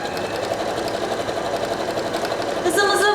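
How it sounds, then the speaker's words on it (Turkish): A Bernette b38 sewing machine stitches a zigzag pattern, its steady rapid mechanical whir running continuously with a brief higher tone near the end. "Zigzagımızı buradan seçiyoruz ve yine makinemizi çalıştırıyoruz."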